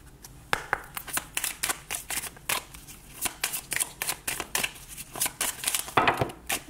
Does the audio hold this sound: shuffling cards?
yes